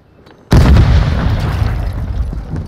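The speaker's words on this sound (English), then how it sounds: "Oh, one grenade's out" A grenade explodes in the Call of Duty DMZ video game, bursting suddenly and loudly after near silence and leaving a long, rumbling roar that decays slowly.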